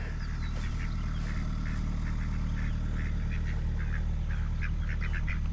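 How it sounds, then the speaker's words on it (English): Ducks quack repeatedly at a moderate distance over steady rain and a low background rumble, the calls coming in short irregular bursts. "Ducks are liking it."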